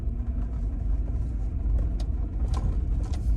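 A vehicle rolls through outdoor terrain near a big pond, giving a steady low engine rumble and road noise, close and continuous, with no talking.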